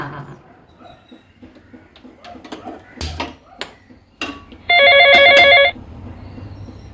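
A telephone rings once in a short, loud electronic trill burst near the end, after scattered household knocks and movement noises.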